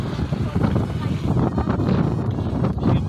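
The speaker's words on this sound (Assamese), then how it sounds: "গোটেই বড়িয়া বতাহ লাগিছে" Strong wind buffets the microphone at a hilltop viewpoint on a new road between Pandu and Kamakhya, a loud continuous rumbling roar with gusty surges throughout, and voices faintly underneath.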